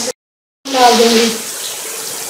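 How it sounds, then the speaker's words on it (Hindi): Water gushes and splashes into a pot of rice for pulao after a short silence, strong at first and then settling into a steadier pour. "4 गिलास पानी में डाल दूँगी।"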